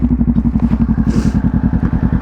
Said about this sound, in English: we can go ahead and start the bike without the clutch because we're in neutral